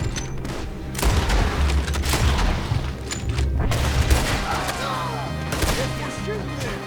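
Repeated gunfire in Red Dead Redemption 2, loud sharp shots and booming blasts in quick irregular bursts over ambient noise, without speech.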